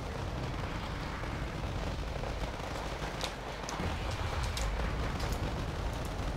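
Heavy mortar explosions in the wargame Wargame Red Dragon form a dense, continuous roar of blasts and crackling impacts. They stay loud and steady throughout, with sharper bursts near the middle and toward the end.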